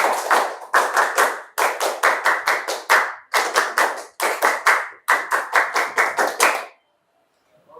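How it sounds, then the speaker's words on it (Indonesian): A classroom of students does a rhythmic double-clap routine, hands striking together in tight, even bursts repeated in regular groups, loud and close, ending abruptly in near silence. "Tepuk ganda. Tepuk 2 kali 13."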